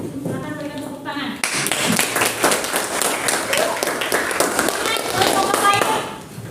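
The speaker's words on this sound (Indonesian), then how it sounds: "Silakan berikan tepuk tangan." Group applause from a classroom of students, a dense burst of clapping starting abruptly after a moment of talk and continuing steadily, loud and close, for several seconds before tapering.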